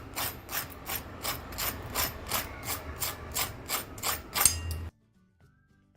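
Crisp fried homemade spring rolls handled and pressed, giving a close, loud run of rhythmic crackling crunches, about ten evenly spaced bursts, before falling silent.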